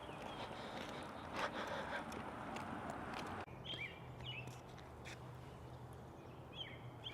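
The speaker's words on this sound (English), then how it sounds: "The bird chirping instead of the buzzing noise of the city." Faint birds chirp in short, scattered calls at a forest campsite at Camp Richardson near South Lake Tahoe, set against a soft, steady outdoor hush with light wind.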